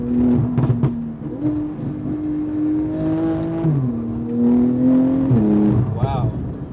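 Engine of a 900bhp Porsche Turbo on a night drive, a loud close droning note that climbs and holds through several rising pulls, with brief talk inside the car near the start and end.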